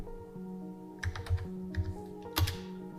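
Keys on a computer keyboard tapped a few times close up, short clustered clicks over a quiet steady background hum with no talking.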